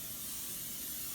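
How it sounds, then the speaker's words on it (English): Olive oil sprayed from a can into a bowl for pizza dough: a steady, soft continuous hiss lasting the whole moment, close and quiet with no talking. "for me, it's much easier just to spray it on"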